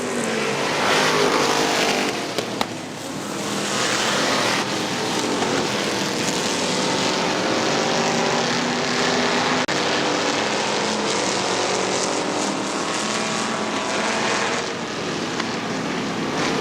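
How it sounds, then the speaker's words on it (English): Street stock cars racing at Butler Motor Speedway during a fall classic event, a loud, continuous roar of several engines at close range that holds steady without a break. "Tries to bid sayonara to Jim Brown in that 84 car"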